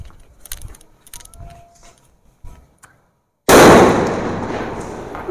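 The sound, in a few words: Kok big foil sutli bomb firecracker exploding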